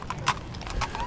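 A few sharp hoof clops ring out nearby over a low background rumble, irregular and brief, like a horse shifting its feet.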